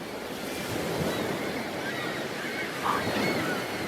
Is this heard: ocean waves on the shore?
yes